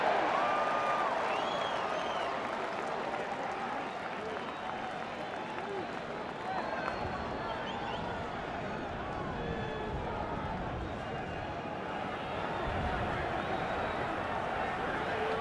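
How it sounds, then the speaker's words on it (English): Baseball stadium crowd at a Yankees–Cubs game roars steadily throughout, a dense, sustained cheer with scattered claps and shouts, loud and continuous from start to finish. "Crowd on its feet."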